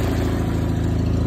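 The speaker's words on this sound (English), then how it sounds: "Showing you a quick video of the engine, which is an Onan" A 16-horsepower Onan engine on a 1989 John Deere 316 garden tractor idles steadily up close, a loud, even low-pitched thrum with a fast regular pulse and no talking.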